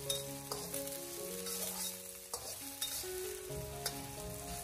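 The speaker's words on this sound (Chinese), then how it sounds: "再继续的小火煸炒，把姜葱的味道都煸炒出来" Ginger slices and scallion pieces stir-frying over low heat in a wok, a steady soft sizzle with scattered scrapes and clinks of the spatula, with faint background music throughout.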